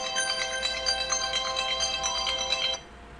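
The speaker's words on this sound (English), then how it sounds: "Oh shit, I'm getting a phone call." Phone ringtone for an incoming call, a bright repeating chiming melody playing steadily for under three seconds before cutting off abruptly, no talk over it.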